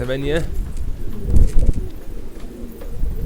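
Pigeons coo in deep, throaty murmurs close by in a loft, with low cooing running throughout while someone talks over them.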